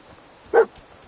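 A dog gives one short, sharp bark, close and fairly loud, in the middle of an otherwise quiet stretch with faint background noise.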